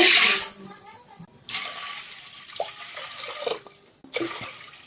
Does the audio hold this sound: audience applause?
no